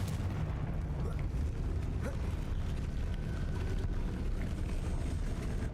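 Explosive Confringo spell blasts in the Hogwarts Legacy video game, a dense continuous rumble of booms and bursts with no clear gaps, loud and close throughout.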